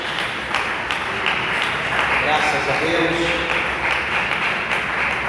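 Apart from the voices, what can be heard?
applause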